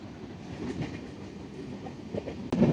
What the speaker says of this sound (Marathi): फायनली आपण बसलोय ट्रेनमध्ये.